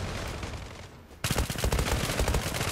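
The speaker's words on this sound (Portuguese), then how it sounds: "Vai o tiro na cabeça do cara, o cara não falece" P90 submachine gun fire in the online shooter Zula: after a quieter first second, dense rapid bursts of gunshots crackle loudly and continuously to the end, with no talking.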